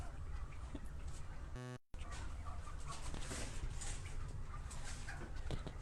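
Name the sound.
heavy tom turkeys on a turkey farm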